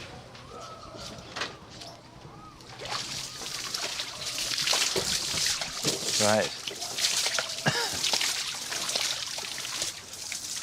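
River water is scooped and splashed onto potted plants in a Brazilian garden, giving intermittent sloshes and trickles close by while people talk throughout and birds call faintly.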